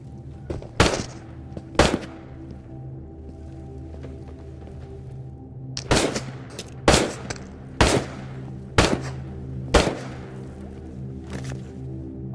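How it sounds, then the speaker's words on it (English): Gunfire in the video game Into The Radius: about eight sharp, loud single shots crack out at irregular intervals over a low steady background hum. "Who the fuck is shooting at me?"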